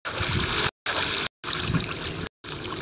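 Steady water flowing and trickling in Minecraft survival mode, a bright continuous rush broken by brief silent gaps, with no speech.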